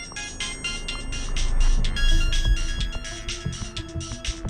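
A mobile phone ringtone plays in a Hindi-dubbed South Indian action movie, a bright, insistent pulsing melody repeating loudly in quick bursts over a dense background mix.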